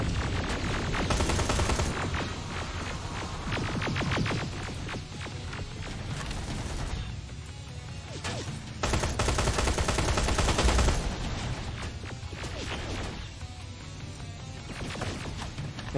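Sustained automatic machine gun fire in a Terminator video game, loud and relentless over several long stretches, with brief lulls where a lower hum and rumble show through before the firing surges again.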